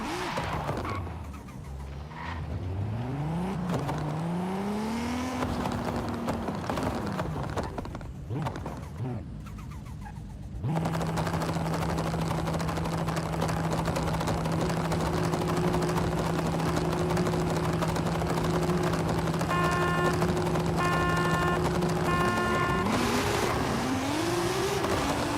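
A Toyota Supra race car engine in Forza Horizon 5, revving with rising and falling pitch sweeps before settling into a loud, sustained drone at steady speed, with some tire noise alongside.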